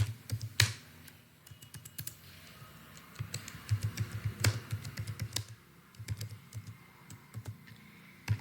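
Fast, irregular clicking of a computer keyboard as HTML code is typed, close and steady in short bursts with brief pauses, alone without talk.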